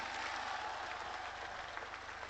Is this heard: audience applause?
yes